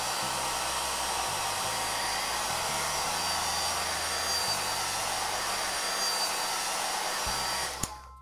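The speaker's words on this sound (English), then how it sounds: "Let's use this blow dryer." A hair dryer blows steadily and loudly for several seconds before cutting off with a click near the end.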